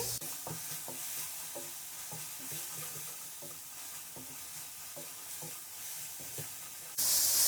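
Steady sizzling of garlic ginger paste frying with onions in a pan, with repeated scraping and stirring strokes at an even pace, close up and continuous.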